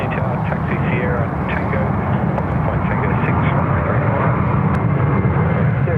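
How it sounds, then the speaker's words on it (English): A Jetstar Airbus A321ceo rotates off the runway at Sydney Airport, a loud, continuous jet engine roar filling the whole stretch, with people talking faintly beneath it. "Jetstar A321 CEO, just rotating there, 3-4 right"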